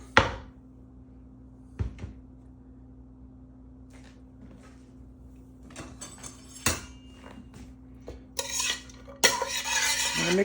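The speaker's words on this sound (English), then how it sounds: "I'm gonna mix up the onions and stuff at the bottom." Onions are mixed in a pot for potato salad, with close, sharp clanks and knocks of a utensil against the metal scattered across the stretch, growing busier toward the end, with no talking.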